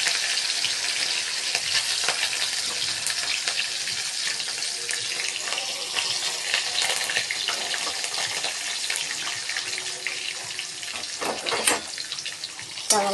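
Chillies and roasted peanuts fry in a pan, a continuous crackling sizzle broken by scraping stirring strokes and a few sharper clatters near the end, with no talking.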